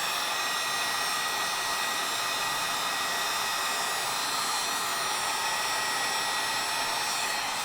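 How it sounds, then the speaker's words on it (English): A heat gun blows a steady, loud, even rush of hot air over heat shrink tubing on a wire for a 12 volt relay setup, running unbroken throughout with no talking. "let me get the heat gun plugged in. And then I'll heat trade my wire on"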